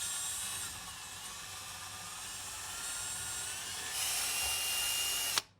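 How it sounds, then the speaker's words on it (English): A drill with a 3/32 inch bit bores a hole in a guitar body, giving a thin, steady, fairly quiet whine that grows louder partway through and then cuts off abruptly. "I'm going to use a 3/32 inch drill bit to drill that hole."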